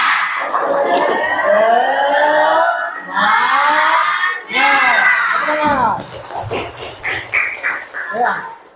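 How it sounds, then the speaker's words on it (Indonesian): Classroom of schoolchildren doing a rhythmic spirit clap chant during an ice-breaking activity, loud voices chanting together with bursts of clapping toward the end, close and energetic. "kita melakukan tepuk semangat ya, tepuk semangat."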